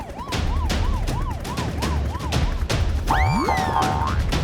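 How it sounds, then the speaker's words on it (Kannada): A police siren wails in a fast, repeating up-and-down pattern, then gives way to a bright, swooping electronic tone near the end. "ಆಗ ಅವರಿಗೆ ಪೊಲೀಸ್ ಸೈರನ್ ಕೇಳಿಸ್ತು"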